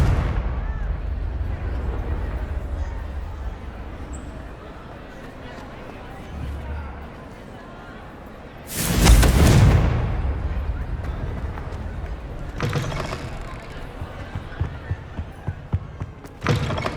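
The Confringo fire spell explodes in Hogwarts Legacy with a sudden loud blast midway, preceded and followed by rumbling game ambience and further softer impacts.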